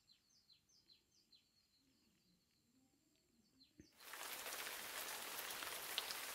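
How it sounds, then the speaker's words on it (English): Rain starts suddenly after quiet birdsong, turning into a dense steady hiss of falling rain that continues to the end. "But now it's raining. It rains and rains and rains."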